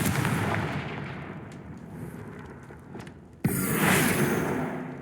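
Fiery Confringo blasting spell cast in the Hogwarts Legacy video game: a steady roaring rumble erupts into a sharp, loud burst partway through, with crackling blast noise trailing off.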